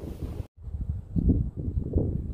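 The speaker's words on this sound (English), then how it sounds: "I don't know if you guys can hear me, it's windy right now" Gusty wind buffets the microphone in low, rumbling bursts, with a brief drop-out near the start before the blustery roar returns.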